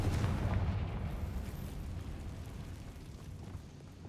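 Fiery Confringo spell blasts from the Hogwarts Legacy video game hit with a heavy, booming low rumble that rolls on and slowly fades over a few seconds.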